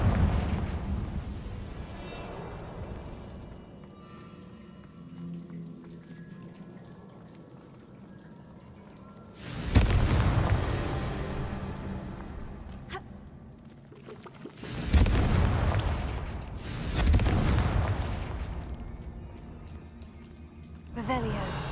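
Confringo fire spells exploding in Hogwarts Legacy, three heavy booming blasts with rumbling tails, separated by quieter stretches of ambient game sound and character speech.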